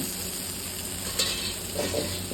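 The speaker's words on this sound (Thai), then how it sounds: "อ๋อส่วนทะเลกระทะร้อนครับผ" A seafood oyster omelette sizzles in a hot iron pan, a steady broadband frying hiss throughout with a few brief louder spatters and scrapes of stirring.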